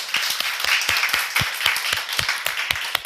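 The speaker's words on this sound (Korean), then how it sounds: "영광의 박수 올려드리겠습니다" Rhythmic clapping from a church congregation after a sermon, fairly close and in unison, with sharp regular beats over a wash of scattered applause.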